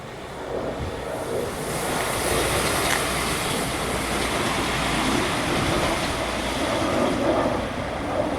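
A German ICE high-speed train rushes past close by, a broad steady roar of rolling wheels and rushing air that fills the whole stretch without pause.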